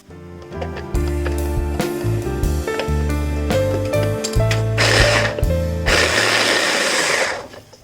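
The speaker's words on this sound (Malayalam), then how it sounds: "ഈ ടൊമാറ്റോ ഒന്ന് ക്രഷ് ചെയ്ത് എടുത്തിട്ട് വരാം." Four tomatoes crushed in a kitchen mixer, a steady whirring motor hum with pulsing grind, rising to a louder, harsher blending roar in bursts near the end.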